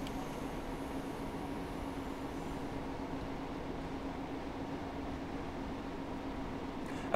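A train in Train Simulator Classic braking on the steep approach to Whaley Bridge, a steady broadband rumble and hiss with a faint low tone, continuous and even throughout, no voices.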